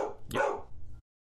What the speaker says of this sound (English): Is he barking at your fence?